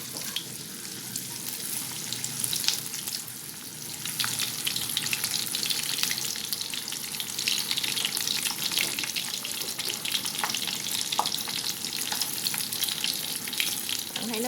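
Tofu skin sizzling in hot oil, a dense, continuous crackle and spatter with occasional sharper pops, steady and close with no voices over it.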